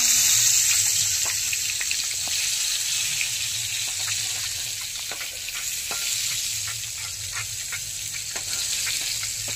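Eggplant pieces fry in oil with spices in a continuous loud sizzle. Repeated stirring scrapes and sharp pops punctuate it, close and without voices.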